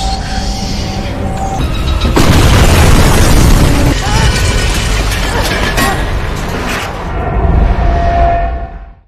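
A huge explosion in an action film scene, a loud close boom with a long roaring, crackling debris tail, then a second swelling blast that fades out, heard under narration.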